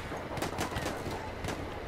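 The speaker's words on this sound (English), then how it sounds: "Who the hell is shooting at me?" Gunfire in the Battlefield 1 video game: a dense fusillade of overlapping shots and bursts, several sharp cracks standing out over a constant battlefield din, fairly loud and close.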